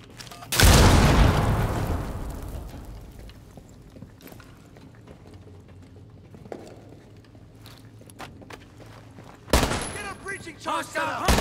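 Gunfire in the Rainbow Six Siege hostage mode: a loud burst of shots up front fades into a low rumbling stretch with scattered thuds, then another sharp volley near the end.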